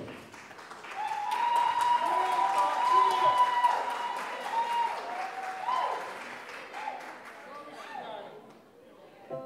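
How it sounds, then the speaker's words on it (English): Wedding guests at Leonard's Palazzo in Great Neck, NY applaud in a sustained, full round of clapping that swells and gradually thins, with music playing and crowd voices mixed underneath. "Let's give him a big round of applause."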